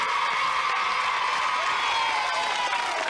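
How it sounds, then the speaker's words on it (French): Studio audience on a 1992 French children's TV game show applauds the two contestants, a dense, steady wash of clapping mixed with crowd noise and cheering, holding at an even loud level for about three seconds. "on peut les applaudir tous les deux"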